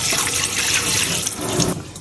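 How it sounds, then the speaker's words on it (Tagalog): Japanese plums rinsed under a running kitchen tap, a steady close hiss of flowing water splashing into the sink for about two seconds, with no voices. "Tapos hugasan muna natin to para mawala yung kanyang pagkaalat."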